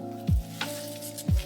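Hardened Nelsol clay kneaded by hand, giving soft wet squishing sounds: two distinct squelches about a second apart, with a faint one between them, close and quiet.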